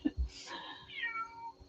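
A cat gives a short, rising meow close up, preceded by a couple of small bumps, with faint room noise behind it.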